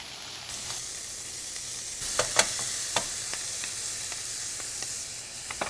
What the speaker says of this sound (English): Now while my bacon is frying